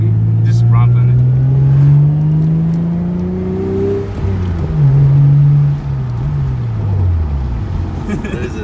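Lexus SC300 engine revving hard as the car accelerates through gears after a short shifter install, the rising engine tone climbing, dropping at a shift and climbing again, loud and close inside the cabin.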